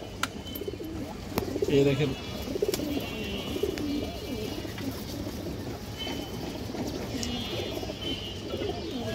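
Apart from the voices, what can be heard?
male pigeon cooing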